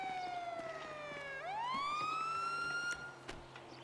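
A police siren in a video game wails alone, its tone sliding down and then sweeping back up in a single loud cycle over a low background rumble.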